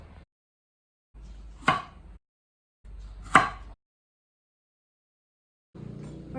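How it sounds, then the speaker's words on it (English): Sweet potatoes being cut into smaller pieces, with two sharp knife chops landing on a board, each set against short stretches of low background hiss, close by and with no talking. "Cutting the sweet potatoes into smaller sizes will make them cook faster."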